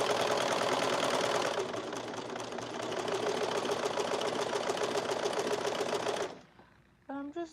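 A four-thread serger with all tensions set to zero runs thread through at speed, a loud, even mechanical rattle lasting about six seconds before stopping abruptly, followed by brief quiet and a short voice.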